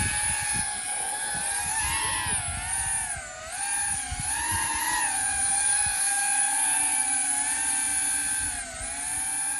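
A Speedybee 25 drone takes off and flies in wind, its rotors giving a loud, steady high-pitched whine that wavers in pitch as it fights the gusts, with wind rumble underneath.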